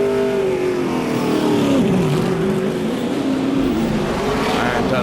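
Race cars of the Speedcar Series at Malaysia run a formation lap, their engines droning loudly and continuously with shifting pitch as they weave, under a commentator's voice.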